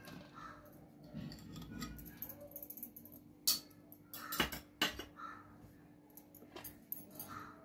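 A spoon whisking 200 grams of butter in a bowl for an eggless plum cake, with scattered clicks and scraping taps against the bowl and a few sharper knocks, close and fairly quiet.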